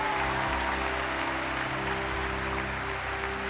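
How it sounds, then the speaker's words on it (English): A congregation claps together after a prayer at a church gathering, a steady wash of many hands sustained throughout under a droning organ or keyboard chord. "Yeah, we can clap now."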